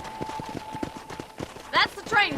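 Horse hooves clip-clop at a steady trotting rhythm in the Red Dead Redemption video game, close and fairly loud, with a brief voice calling out near the end.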